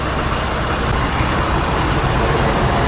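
A KYMCO GP125 scooter engine idles steadily, a continuous broadband drone without breaks or revving, with no talking.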